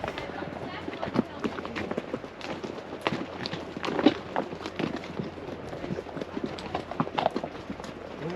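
Horses' hooves clip-clop steadily on a guided trail ride through Zion National Park, an irregular walking rhythm of dull thuds on the dirt path, heard close with faint talk and outdoor ambience around.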